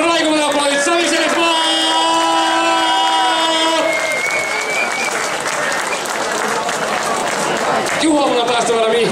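An audience breaks into loud, sustained applause and some cheering for a competitor at a head-to-head match, mixed with music tones and a voice calling out over it.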